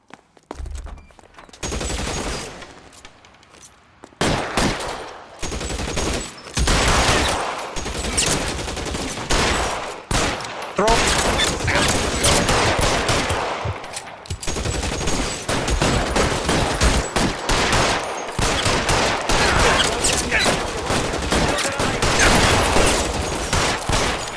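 Dense, loud bursts of gunfire in the 1940s Los Angeles crime game L.A. Noire, with rapid volleys and repeated shots over roughly twenty seconds and only brief pauses between them.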